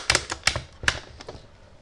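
Switches on a hobby RC radio transmitter are flicked back and forth several times, giving a handful of sharp, close plastic clicks in an uneven rhythm with quiet gaps between them.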